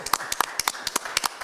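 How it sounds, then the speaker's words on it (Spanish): At Plymouth Congregational Church, during a gathering on community forest concessions in Guatemala, a small group claps in sharp, separate handclaps, about a dozen distinct claps in quick, uneven succession. "Un aplauso para ustedes también"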